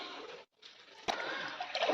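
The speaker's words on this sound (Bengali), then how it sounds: "এখানে মাছগুলো ধোয়া হচ্ছে।" Fish are washed in water, with a splashing slosh, a brief pause, then a sharp splash followed by continuous sloshing and spattering close by.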